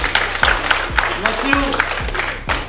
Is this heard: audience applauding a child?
yes